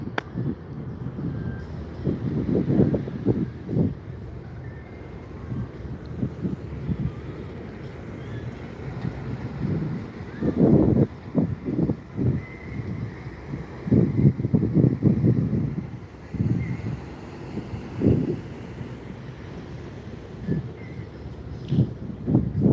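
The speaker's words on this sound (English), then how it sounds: "It was hot, but today is really breezy." A breezy outdoor wind buffets the microphone in uneven gusts, with low rumbling surges rising and falling throughout and no voices.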